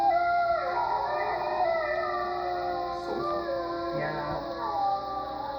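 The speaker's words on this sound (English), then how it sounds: "howl analyzer can identify every note a wolf hits" A wolf howls in long, sustained, wavering tones that slide between pitches, layered with other howls in a steady chorus, with a brief spoken word under it.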